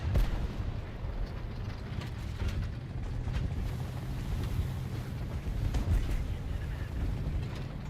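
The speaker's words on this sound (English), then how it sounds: "Artillery fire." Steady rumbling battlefield din from War Thunder, with repeated dull artillery booms and mechanical clatter layered over a constant low roar at moderate distance.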